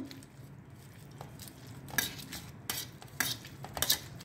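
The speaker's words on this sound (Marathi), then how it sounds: "आता या भाज्या पण मॅश करून घेऊ।" Boiled vegetables for pav bhaji being mashed in a pan, soft squelching and stirring with a few sharp metallic clinks and scrapes of the utensil against the pan, close and fairly quiet.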